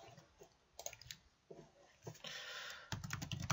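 Keyboard keys clatter in quick bursts as a login name and password are typed, close and fairly quiet, with short pauses between runs of clicks and a denser flurry of taps toward the end.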